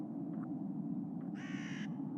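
Crows caw in the video game The Whispered World: a short, harsh, raspy caw rises clearly over a steady low ambient hum.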